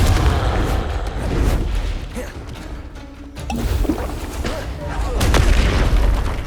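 Confringo blasting spell explosions in Hogwarts Legacy, heavy rumbling booms swelling over a dense combat din, loud and close, with a brief dip midway before surging again.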